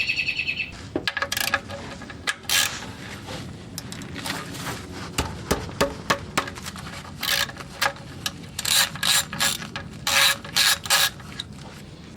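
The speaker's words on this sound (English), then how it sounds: "that's your 14mm bolt, and that wrench is gonna fit right there" A wrench ratchets repeatedly on the 14mm oil drain plug of a Toyota with a 3.5L engine, quick clicking bursts in an uneven rhythm, close and fairly loud, with faint bird chirps outdoors.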